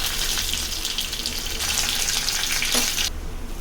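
Mustard seeds, fennel and crushed garlic frying in hot oil for a Tamil lentil-greens dish, a loud, steady, crackling sizzle close up that drops off sharply near the end.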